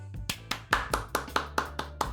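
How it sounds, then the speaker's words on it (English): Steady applause from a small group, about eight to ten distinct, evenly spaced claps over two seconds, close by and moderately loud, with no voices. "I think that deserves a round of applause."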